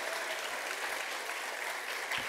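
Steady applause from an audience at a morning folk dance event, honoring the dance participants, a dense continuous patter of clapping hands with no voices over it.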